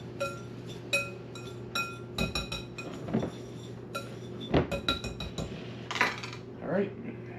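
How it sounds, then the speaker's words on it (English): Garlic and onion are mixed into pork rinds in a bowl, with repeated clinks and scrapes of a spoon against the dish at close range, irregular and fairly quiet, with no talking. "Going to mix garlic and onion into the pork rinds."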